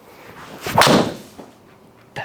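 A single sharp crack of a golf driver striking a ball at a GolfTEC driver fitting, loud and tingy with a bright ringing decay, followed by room quiet and a faint second tap at the end.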